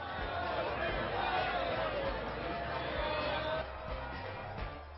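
A huge street crowd of football fans on Buenos Aires' 25 de Mayo and 9 de Julio avenues celebrating Argentina's World Cup win, a dense continuous roar of cheering and chatter that eases slightly toward the end.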